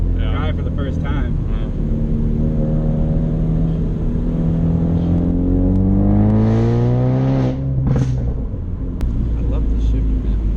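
A Ford Focus RS turbo engine on a mountain road climbs steadily in pitch as it accelerates through the revs, then drops sharply on a shift, loud and close inside the cabin.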